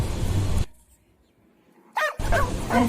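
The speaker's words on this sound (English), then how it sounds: "We have a dog." A dog barks in loud, close bursts, one sharp volley at the start and another near the end, separated by a near-silent gap.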